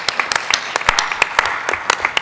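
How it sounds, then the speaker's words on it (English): Short burst of audience clapping at a talk on gender dynamics, scattered individual claps rather than a dense ovation, fairly close and moderately loud. "give her a round of applause."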